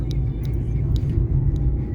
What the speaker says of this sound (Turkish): Arabamı ikiye aldım hemen. Zaten yokuş aşağıya sallanıyoruz.